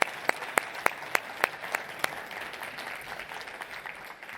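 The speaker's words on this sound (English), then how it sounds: "I want to bring her up to the stage so we can give her a huge round of applause" Audience applause at an event stage, starting with several sharp separate claps that thin into a softer, steady wash of clapping from a distant crowd.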